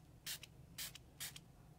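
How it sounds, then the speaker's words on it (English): Three quick, faint spritzes of colour spray hit a baker's box, evenly spaced short hisses against quiet background. "I have just sprayed everywhere but on the box."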